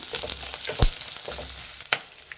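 Onions frying in a pan for a Hyderabadi chicken masala, with a steady crackling sizzle and a couple of sharper stir clatters. No one speaks.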